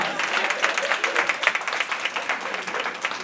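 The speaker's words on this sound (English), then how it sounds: "Will y'all give her a round of applause?" Audience applause at a district budget town hall meeting, a fairly even patter of many hands clapping at moderate distance without any talk.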